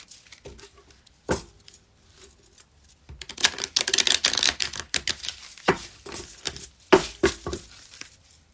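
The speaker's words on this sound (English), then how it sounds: "Shuffle again. Big shuffle?" Papery riffling and flicking bursts of a deck of cards being shuffled come in short clustered runs, close and fairly loud, with quiet gaps between the bursts of shuffling.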